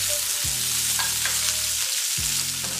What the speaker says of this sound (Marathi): कांदा भाजण्यासाठी मी इथे थोडं तेल टाकते।